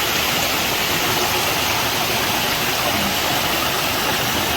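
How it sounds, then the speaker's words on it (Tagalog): Big waterfall on the rocky Tso Kum Tam stream: a loud, constant, close rushing roar of falling water with no pauses. "I can see another big waterfall down there in front of us"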